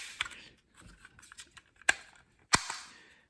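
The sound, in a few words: homemade Fallout dart gun firing a dart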